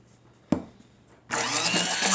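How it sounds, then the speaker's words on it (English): Immersion blender whirring through a raspberry balsamic vinaigrette: a sharp knock, a brief lull, then the motor kicks in loud and close, holding a steady high-pitched buzz to the end. "time to do work our magic with the immersion blender"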